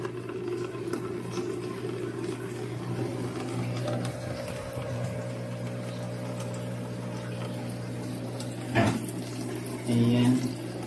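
Water siphoned out of a crayfish tank in an urban farming setup, heard as a steady low gurgling flow with a mechanical hum running throughout and a couple of brief louder splashes near the end.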